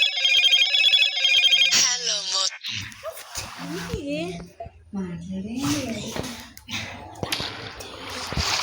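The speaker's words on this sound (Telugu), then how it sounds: "వాళ్ళ డాడీ అయితే ఫోన్ చేస్తున్నాడు" An electronic phone ringtone plays briefly at the start, then people talk over background noise.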